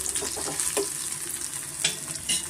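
Onion, garlic, ginger and green chilli sizzle steadily in hot oil for a hotel-style green mutton sambar, with a few scraping stirs breaking through a continuous close frying hiss.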